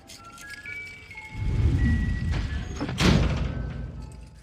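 Wind-blown door in a cabin in the woods bangs shut with a loud thud, followed by a second sharper slam, alone over a faint hum and light jingling.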